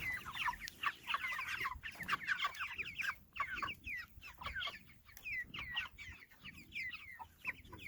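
Young chickens kept in a chicken tractor out on fresh grass cluck and chatter in a busy, overlapping flock, soft clucks and short calls following one another continuously at moderate distance.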